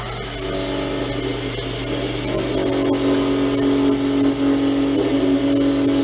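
A Toyo ML210 metal lathe taking a smooth cut, a steady close mechanical whine with a rising tonal ring partway through, running continuously without talk.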